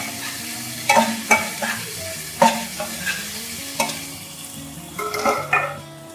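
Small onions (shallots) sauté in a pan for kadhai prawn biryani, with a soft sizzle under repeated scraping, stirring strokes and light clinks of a utensil against the pan.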